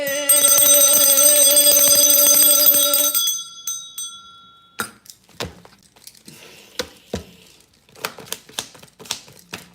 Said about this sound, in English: Whoever used that bell sound on Hot 97, they knew what they was doing.